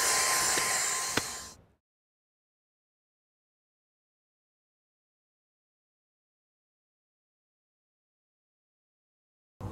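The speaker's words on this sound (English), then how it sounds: "The vacuum cleaner is designed so that the airflow goes through the head and sucks up the dirt into the machine." A vacuum cleaner with a detachable head, usable as a handheld, runs with a steady whooshing roar for under two seconds, then cuts off into silence.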